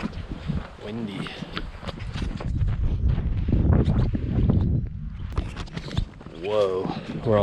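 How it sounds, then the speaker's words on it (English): Gusty wind in the Himalayas in India buffets the microphone in low rushing waves, with voices talking intermittently over it. "Windy."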